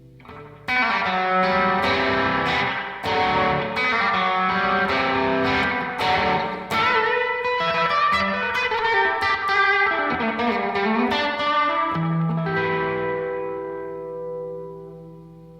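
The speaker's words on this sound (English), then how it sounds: "And I like partnering that with a spring reverb." Electric guitar playing plucked notes and chords through a Jam Delay Llama Extreme pedal with springy reverb, each note echoing and trailing off into a long ringing tail.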